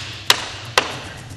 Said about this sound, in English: tap it, nice and flat, and then hammer it home.